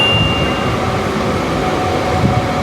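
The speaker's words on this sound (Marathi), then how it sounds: "तर या पनवेल ठाणे लोकलचा पहिला official halt Khandeshwar railway station" Panvel-Thane local train on the Trans-Harbour line halting at Khandeshwar, a two-platform on-ground railway station in India, giving a steady, loud rumble and hum of the stopped train and station ambience, with no talk.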